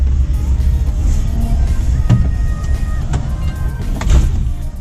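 A small electric car, light and go-kart-like, rolls along with a steady low hum of tire and road rumble inside the cabin, punctuated by a few faint clicks and knocks.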